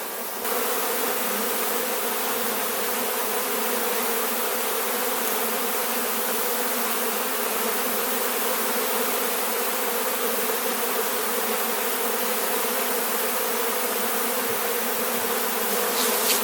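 Honeybees buzzing loudly inside a full hive, a dense continuous drone that stays close and steady throughout with no voices.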